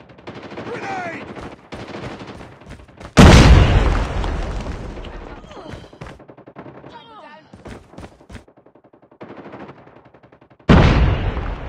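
Call of Duty Mobile match with rapid bursts of gunfire and two loud, sudden grenade-style blasts that ring out and decay, while voices call out between the shots.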